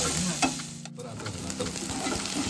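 Onion frying in a pan for methi bhaji, a close, steady sizzle with a few stirring scrapes, one short dip midway, and no speech.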